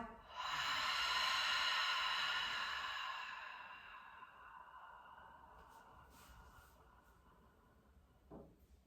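A long, slow exhale during a strength exercise for runners, a steady breathy hiss that swells and then fades gradually, followed by a faint short breath near the end.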